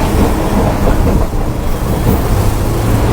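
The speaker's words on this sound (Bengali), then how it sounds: "সাথে ট্রেন থেকে সমুদ্রের গর্জনা শোনা যাচ্ছে" A passenger train rolls along a Sri Lankan coastal line near Moratuwa, close beside the sea, giving a loud, steady rumbling roar throughout with no voices, the rail noise and surf blending into one continuous wash.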